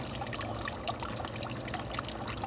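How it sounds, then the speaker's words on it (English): Water flows steadily from a garden hose into a backyard fish pond, a continuous soft trickling and splashing with no talk over it. "the water's going straight into there"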